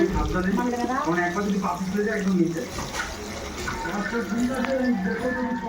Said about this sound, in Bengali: এবার আমি এখানে জল দিয়ে দিচ্ছি।